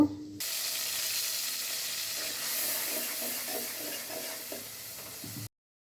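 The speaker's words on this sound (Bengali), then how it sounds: "পেঁয়াজটা ভাজা হয়ে গেলে এখন একটু পানি দিয়ে নেড়ে ছেড়ে মশলাগুলো দিয়ে দেব" Fried onions and spices in a pot with a splash of water, cooking for a dish of hilsa fish with ash gourd, give a loud, continuous hissing sizzle that stops abruptly at the end.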